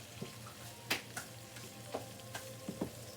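Plain flour frying in beef grease in a pan for country gravy, a soft, low sizzle broken by a few light scrapes and ticks, close and fairly quiet with no talk.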